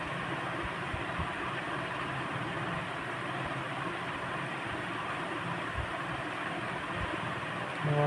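A continuous rumbling roar of a moving MMTS local train, steady and enveloping, as if heard from inside a crowded carriage.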